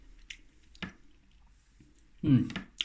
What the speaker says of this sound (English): Got to slurp your noodles.